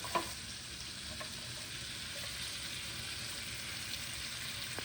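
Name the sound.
onion and garlic frying in butter in a pan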